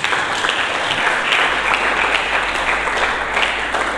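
Sustained applause from a church congregation during a sermon, dense and steady clapping filling the whole stretch at close range.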